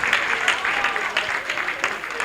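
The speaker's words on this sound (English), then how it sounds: "We can all just stand and clap hands for all the speakers that came here and give them the respect that they deserve." An audience at a meet and greet event stands and applauds the speakers, producing a continuous dense patter of clapping hands throughout, loud and close, with a few voices mixed in.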